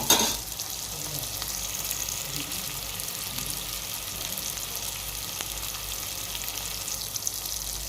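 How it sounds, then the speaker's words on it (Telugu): Ginger frying in oil in a pan, a steady close sizzle with a faint watery hiss running evenly throughout, no voices. "నూనెలో అల్లము వేగనివ్వాలి మంచిగా, లేకుంటే మనకు పలావు అల్లం వాసన వచ్చేస్తుంది."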